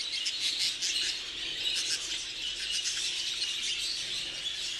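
Melanistic spangle budgerigar in an aviary, its high chirps and chatter running steadily as a busy, fairly loud twittering with a raspy edge throughout.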